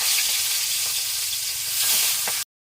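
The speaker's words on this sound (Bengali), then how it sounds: "পোনা মাছগুলিকে প্রথমে টক করার জন্য মাছগুলিকে প্রথমে একে একে করে ভেজে নেব।" Pieces of salted, turmeric-rubbed rohu fish frying in hot oil, a bright steady sizzle with a few soft pops, close and continuous, then cutting off abruptly at the end.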